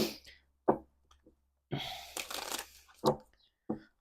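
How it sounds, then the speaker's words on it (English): Quick riffling bursts of tarot cards being shuffled, a few short flurries separated by pauses, close and fairly quiet, with a brief stretch of louder shuffling in the middle. "I'm just going to give these cards a shuffle here"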